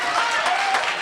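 An audience at a cultural day gathering claps in a brief burst of dense applause, with a speaker's voice over it.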